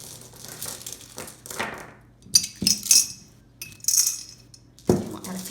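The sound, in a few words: glass gems being added into a vase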